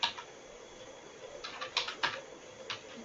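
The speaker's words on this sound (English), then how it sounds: "Now we will type a prompt saying lipstick," Light tapping on a computer keyboard as a short prompt is typed, a few scattered soft keystrokes close by over a faint background hiss.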